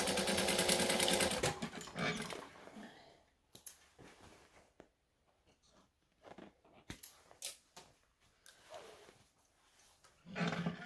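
A home sewing machine stitching pockets on a knit kit garment, heard as a loud continuous run at the start, then short intermittent bursts and clicks with quieter gaps, and a final burst at the end.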